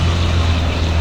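A BMW E36 engine revs up, with a loud, steady low rumble running throughout at close range and no talking over it.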